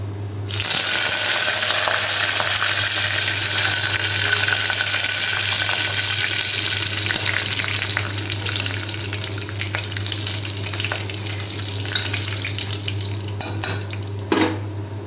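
Curry leaves and drumstick leaves frying in hot oil in a pan for Punjabi kadhi, a steady loud sizzle and crackle running continuously, with a few clinks of a utensil near the end.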